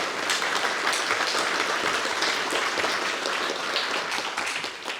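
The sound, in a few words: audience applause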